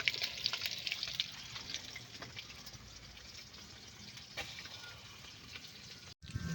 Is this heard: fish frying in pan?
yes